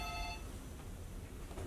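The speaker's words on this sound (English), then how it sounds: "The phone has interrupted my YouTube videos." A telephone rings indoors with a short electronic tone at the start, then gives way to steady background hiss.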